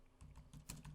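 Typing program code on a computer keyboard: a quick burst of several soft, close key clicks in an uneven rhythm, quiet and alone.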